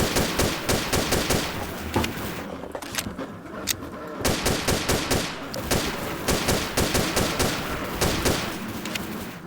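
Rapid bursts of automatic gunfire in a video game crackle almost continuously, loud and close, with brief pauses between volleys and no voices.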